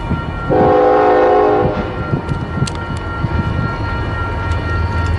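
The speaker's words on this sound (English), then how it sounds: "This is a westbound, maybe grain train coming at me." A westbound BNSF grain train approaches on the Transcon line at the western end of Fremont, Nebraska, its loud horn sounding once, followed by a steady rumble and clatter of wheels drawing near.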